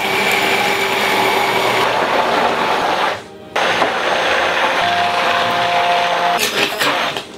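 An immersion blender whirs steadily as oil is poured in to make tarragon mayonnaise, a loud continuous buzz broken by one brief pause and ending with a short rattle.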